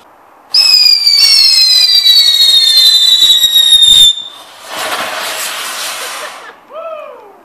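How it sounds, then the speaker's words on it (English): A New Year's firework fires with a loud, shrill, wavering whistle for several seconds, then cuts off into a crackling, hissing burst, followed by a brief fading squeal. "what an evil firework"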